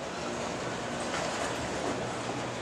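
A long freight train rolls past steadily at a rail yard with continuous rumbling and rattling of wagons, a broad unbroken noise with no talking.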